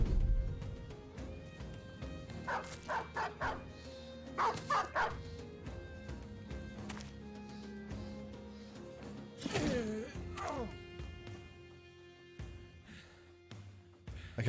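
A dog barks and yips in the Battle Brothers video game, with short repeated bursts and a whimper among battle noises, heard fairly close over a low game background.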